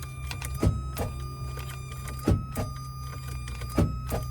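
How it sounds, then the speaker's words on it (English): A car's starter is tried again and again without the engine catching. Three evenly spaced heavy clunks ring over a steady electrical whine. "So it sounds like it want to crank, but it just won't crank"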